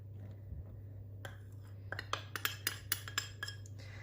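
Flour being spooned into cake mixture in a bowl, a series of light metallic clinks and taps of a spoon against the bowl's rim, close and irregular after a quiet start.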